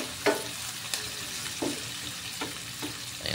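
Squid adobo with tomatoes sizzles in a pan while a utensil stirs it, a steady frying hiss broken by several sharp scrapes and clacks at irregular intervals, close and clear, with no talking.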